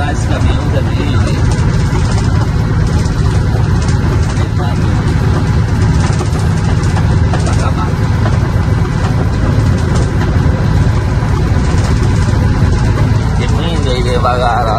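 A loaded truck's engine idles steadily and close by with a dense low rumble throughout, while someone talks over it on a dusty road.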